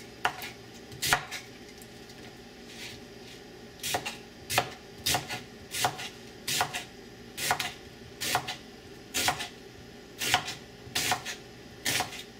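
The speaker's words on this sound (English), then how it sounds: "I've got a purple onion here. I'll slice this up. I want some thin slices." A knife cutting a purple onion into thin slices on a board, sharp evenly paced chops repeating in a steady rhythm, close and clear against a quiet room, with no voices.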